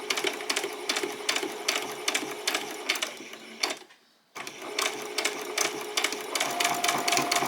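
Sewing machine stitching a dress seam, running in a fast, even rapid-fire patter close up, pausing for about half a second to back-stitch, then carrying on steadily.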